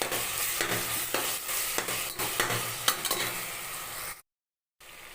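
Ginger garlic paste sautéing in a pan for crab biryani, a close steady sizzle broken by regular scraping stirs of the spatula, ending in a brief silent gap before the frying resumes.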